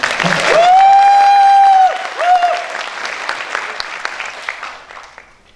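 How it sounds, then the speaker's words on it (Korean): At a Korean political party youth rally, the audience breaks into applause for an arriving lawmaker. A long sustained tone sounds first, then loud massed clapping swells and slowly fades in a large hall. "박수로 맞아주시죠"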